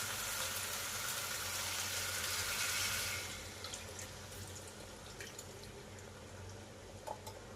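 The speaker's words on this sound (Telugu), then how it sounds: "మనకి ఎంత పులుసు కావాలో అంత వాటర్ వేసుకోవాలి" Water pours steadily into a pot of tamarind korameenu fish stew, a loud rushing flow that thins after a few seconds into softer trickling and splashing, with no voices.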